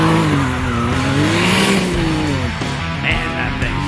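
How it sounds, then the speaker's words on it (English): A Can-Am Maverick X3 side-by-side revs hard while racing, its engine pitch rising and falling in loud, close sweeps, with whooshing bursts that may be the turbo blow-off valves venting between pulls. "that thing sounds sweet when the blow-off valves rock."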